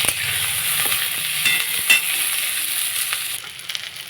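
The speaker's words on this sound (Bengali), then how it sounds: "পেঁয়াজ রসুনটা ভাজা ভাজা হয়ে গেছে।" Onion and garlic frying in a pan with cumin and bay leaf, a steady close crackling sizzle with occasional stirring scrapes, easing slightly toward the end.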